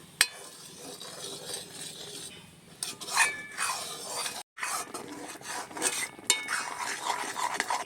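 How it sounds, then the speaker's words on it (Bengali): Ground Gobindobhog rice being stirred into kheer in a pot, close rasping scrapes of a spoon against the metal with occasional clinks, broken by one brief silent pause. "চালটা দিয়ে আমি আবারও নেড়ে নেব।"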